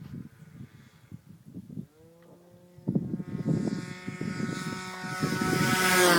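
Piper Cherokee light aircraft with its propeller engine running up, the drone building from quiet to a loud, steady roar by the end, with bumps and thuds over the engine early on.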